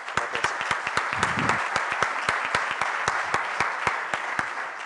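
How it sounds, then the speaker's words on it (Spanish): An audience at a university technology talk breaks into steady, moderately close applause, a dense run of many hands clapping throughout. "así que un buen aplauso, Ricardo."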